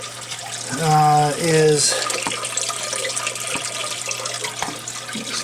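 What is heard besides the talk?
water draining through DIY aquarium double overflow into sump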